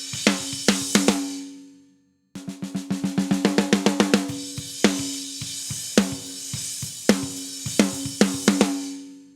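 A snare drum recorded through a Rode NT6 microphone plays a groove of crisp hits and quick rolls, with a brief pause and then a steady run of accented strokes, close and unaccompanied.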